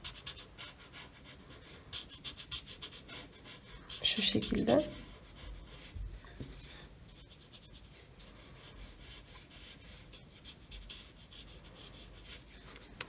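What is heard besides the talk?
blending pencil shading with paper blending stump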